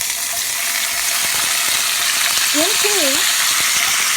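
Asparagus sizzling loudly in hot bacon grease in a pan, a steady dense crackle and hiss that fills the whole stretch, with a brief faint voice and a short whistling tone near the end.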